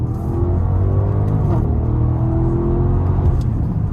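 A 2025 Audi SQ7 pulling hard after a downshift, heard from inside the cabin: a steady, rising engine drone with low rumble and whir, moderately loud and continuous, with no talking.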